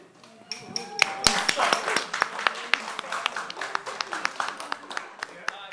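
Audience applause at a live event in Hackney, London, a fairly close, uneven patter of hands with sharp individual claps over faint background chatter.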